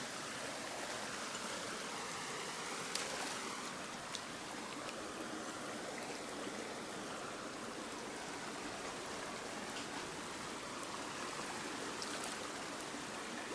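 A small stream runs through a normally dry roadside ditch, producing a continuous soft burble and trickle of moving water, steady and fairly quiet, with faint occasional clicks and no speech.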